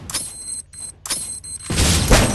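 Grenade blasts in a battle royale shooter game: a couple of short booming bursts with mechanical clatter, then a heavier, louder explosion rumbling toward the end.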